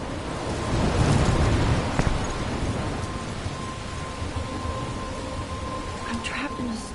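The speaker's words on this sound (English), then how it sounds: "I'm trapped in a storm?" A video-game storm in Life is Strange: steady, dense rain pours throughout while a deep roll of thunder swells early on, the downpour close and loud under faint voice-like sounds.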